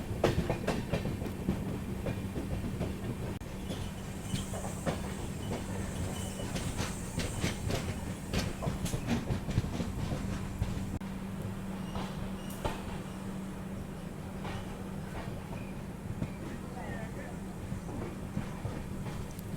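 The Indore Amritsar Express rolls into Maksi Junction at night with steady rumbling and rhythmic wheel clatter over rail joints, with faint talk in the background.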